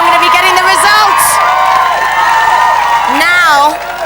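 A large studio crowd at the live Big Brother 2002 finale in Britain keeps up a loud, continuous roar of cheering and whooping. Sharp individual shouts rise above the din before it eases slightly at the end.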